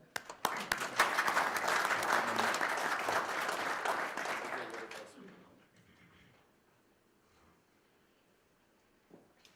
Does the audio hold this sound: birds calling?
no